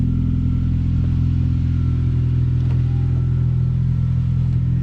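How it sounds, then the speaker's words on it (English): A Honda Civic idling to warm up after sitting unstarted for weeks, its engine giving a steady, close, low rumble with a constant hum and no revving. "I'm gonna let the Civic warm up for a little bit"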